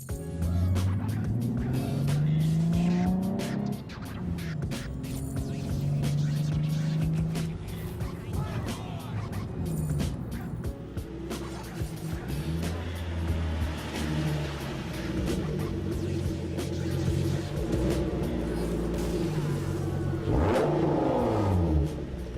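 A Nissan 370Z Nismo sports car engine rumbles and revs loudly and continuously, rising and falling in pitch, with a louder surge near the end.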